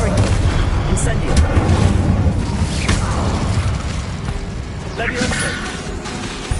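A Confringo fire blast spell cast in the Hogwarts Legacy video game: loud, dense booming bursts layered over constant game noise and mechanical clatter, with a voice present throughout.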